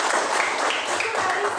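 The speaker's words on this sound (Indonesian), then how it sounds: "Mari kita tepuk tangan dulu." Audience applause breaks out in a classroom-style session, a short burst of steady clapping from a group that fills the whole moment, with faint talk mixed in.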